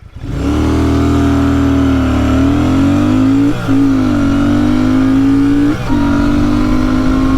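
A Royal Enfield motorcycle (Shotgun 650 or Hunter 350) accelerating hard through a 0-60 run with a tailwind, its engine note climbing steadily and loudly close by, broken by two brief dips as the rider shifts gears.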